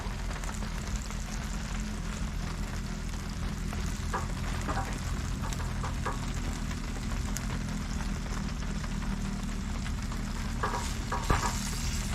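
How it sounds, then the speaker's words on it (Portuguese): Fish steaks sear in oil in a pan for a moqueca, a steady close sizzle and crackle with occasional louder pops and faint utensil scrapes, running without talk. "Eu deixei ele 4 minutinhos só para dar uma selada mesmo."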